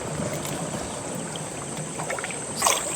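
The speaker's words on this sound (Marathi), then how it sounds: "कंबारवर पाण्यातनं आम्ही चाललो." People wading through waist-deep water in a stream at night while out catching crabs in Konkan: a steady wash of splashing and churning water, fairly close, with a louder surge near the end and no talk.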